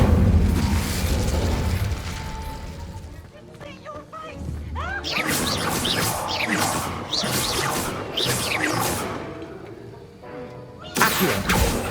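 Incendio fire spell bursts in Hogwarts Legacy, rapid crackling blasts and whooshing flame impacts in clustered volleys, loud and close, with a brief lull before a final sharp burst near the end.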